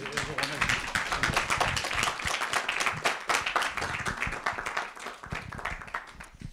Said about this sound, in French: on vous applaudit à nouveau